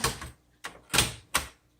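The tab key on a 1960s Smith Corona Electra 120 electric typewriter is pressed, giving several sharp mechanical clacks and thumps with brief decays, close and without talk.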